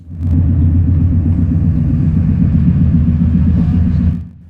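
Talgo Avril S106 train running at speed on Iberian gauge track, heard from inside as a loud, steady low rumble with rough bumps throughout, fading out at the end.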